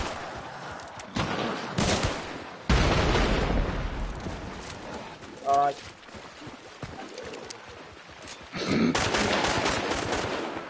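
Rapid bursts of video-game gunfire, with fast automatic shots in loud clusters separated by quieter stretches, under casual voices talking between players.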